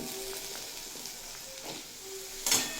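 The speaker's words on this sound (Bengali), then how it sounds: "লো টু মিডিয়াম ফ্লেমে দুই তিন মিনিট মতো ভেজে নেব" Onions and potatoes frying in a pan over low to medium flame, a soft steady sizzle and hiss with small crackles and a brief louder stir near the end, no talk.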